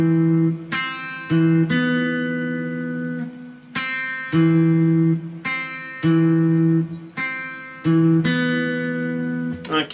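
A clean electric guitar plays the bridge part of a song, close and moderately loud, in a repeating pattern of struck chords and ringing notes held for about a second each, with no talking.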